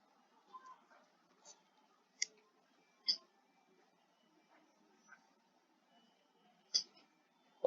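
Soft computer mouse clicks while editing a landing page in Elementor, about half a dozen quiet, sharp taps spaced irregularly over a faint room background with no talk.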